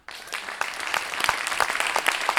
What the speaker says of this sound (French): On applaudit la poésie du citadin filiforme, s'il vous plaît.